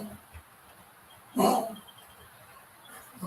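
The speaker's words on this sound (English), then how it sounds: "There's my dog." A dog gives a single short bark at mid-distance in a yard, standing out briefly against quiet background noise.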